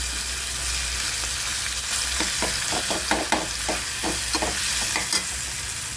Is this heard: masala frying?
yes